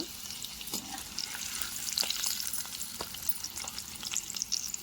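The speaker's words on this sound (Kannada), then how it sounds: "ಇದು ಸ್ವಲ್ಪ ಕಲರ್ ಚೇಂಜ್ ಆಗೋವರೆಗೂ ಹುರ್ಕೊಳ್ಳೋಣ" Eggs frying in hot oil in a pan for egg curry, a steady crackling sizzle with scattered pops throughout, close and moderately loud, no talking.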